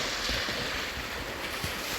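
Seawater and waves wash along a beach shore, a constant broad rushing noise with wind buffeting the microphone and a few soft low thumps of surf throughout.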